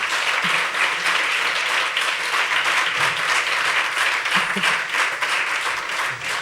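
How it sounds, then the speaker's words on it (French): Loud, sustained applause fills a festival studio show celebrating the sixtieth anniversary of a theatre fringe festival, dense crowd clapping with a faint voice underneath. "Voilà, je vais l'applaudir."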